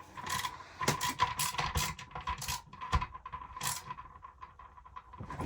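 Mounting hardware for a bidet toilet seat being fastened down, a run of small metallic clicks, ratcheting turns and light scrapes close by, irregular and fairly quiet, with no talk.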